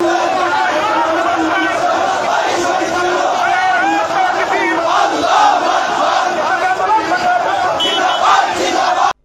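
Crowd of marchers from several Islamic parties at a street protest, chanting and shouting together in a loud, dense, continuous roar with rhythmic rises and falls throughout.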